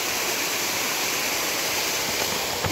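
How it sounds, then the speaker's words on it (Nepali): A waterfall beside a steep cliffside mountain trail above the Saptakoshi river bank in Dhankuta, Nepal, pours as a steady, dense broadband rush that fills the whole stretch without pause, close and loud. "झरना"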